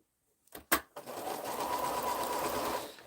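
A sewing machine stitches a seam through quilt fabric, starting with a few short bursts before settling into a steady, continuous run that holds close and fairly loud to the end.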